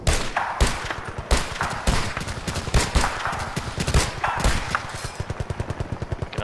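Rapid bursts of gunfire in Battlefield Vietnam, including an M1 Garand, crack close and loud in quick uneven volleys, ending in a fast stuttering string of shots.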